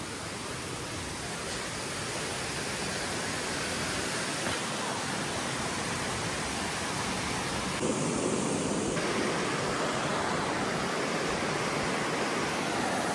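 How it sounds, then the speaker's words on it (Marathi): Steady, loud roar of a waterfall pouring down from above in a green jungle, a continuous broadband wash of falling water filling the whole stretch with no talk over it. "साईकडून वरनं धबधबा पडतोय पण दिसत नाही आता"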